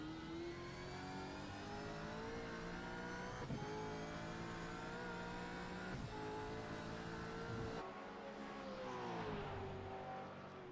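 Race car engines in a sim racing video game howl at high revs, a continuous whine that rises and shifts pitch, with a sudden gear change near the end. No voices are heard.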